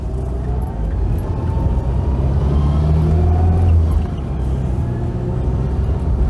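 Classic Mini Clubman driven gently on the road, with a steady, loud engine drone and low rumble throughout, a slight rise in revs midway, and no voices.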